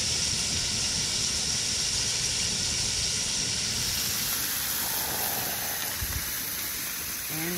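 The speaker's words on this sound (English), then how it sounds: "we got the steaks in the skillet" Steaks sizzling in a skillet at an ice-fishing camp, a loud, dense, continuous hiss and crackle that fills the whole stretch, with a few faint knocks near the end.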